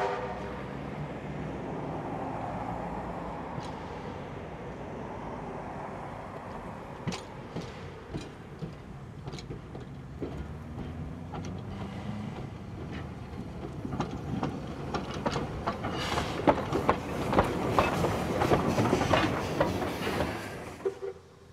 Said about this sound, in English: The locomotive is now finishing its work with departing from Buxton to Thirlmere.